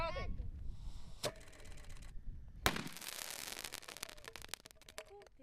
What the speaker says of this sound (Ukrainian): гостей зустрічають пострілами з гармат